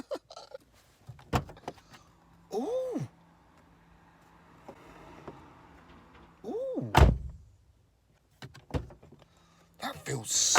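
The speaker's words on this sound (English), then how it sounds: "I've just shut the door." A car door with a freshly replaced cable shuts with a loud, solid thunk, set among a few other lighter clunks, while a voice makes short exclamations nearby.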